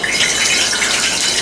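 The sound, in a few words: water drops sizzling in hot frying oil in a skillet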